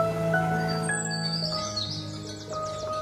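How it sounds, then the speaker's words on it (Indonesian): Birds chirping in a morning village countryside, several tweeting and trilling calls scattered over a steady tonal background hum, fairly close and clear, with no speech. "mendengarkan kicauan burung"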